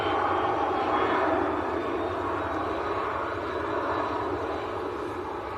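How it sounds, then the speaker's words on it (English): A Jet2 Airbus A321neo lands at Manchester Airport with a steady, moderately distant engine roar that eases slightly as it touches down and rolls out. "Next arrival, just touching down behind the tree stools at the moment, is a Jet 2 A321neo"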